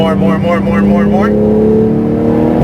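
A Porsche 911 GT2 RS engine drones loudly and steadily under acceleration on a Las Vegas track, its tone holding strong beneath a driving instructor's voice heard at the start.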